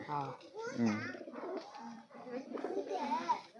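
Pet pigeons, a male and a female kept at home, give soft throaty coos mixed in with close talking voices throughout.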